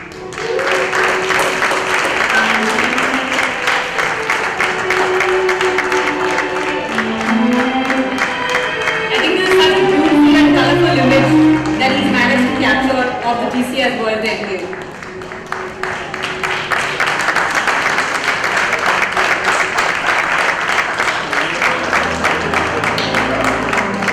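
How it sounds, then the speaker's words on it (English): Audience applause at a philanthropy awards night in Bengaluru, a broad steady wash of clapping lasting throughout, with a presenter's amplified voice and background music running underneath. "a bigger round of applause for them, please"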